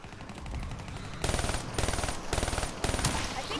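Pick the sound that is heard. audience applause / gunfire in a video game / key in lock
gunfire in a video game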